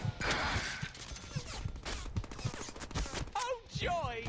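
Gunfire in the Deadpool video game, rapid shots clattering in a dense, fairly quiet burst amid game effects, with a voice speaking over part of it.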